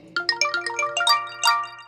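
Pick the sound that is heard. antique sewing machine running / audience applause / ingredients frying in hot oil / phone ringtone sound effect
phone ringtone sound effect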